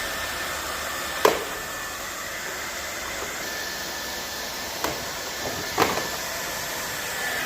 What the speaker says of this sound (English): still using the hairdryer instead of a heat gun, unfortunately